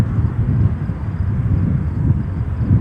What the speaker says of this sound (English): Coming in from Cincinnati, Ohio. That's United Express, flight 4187.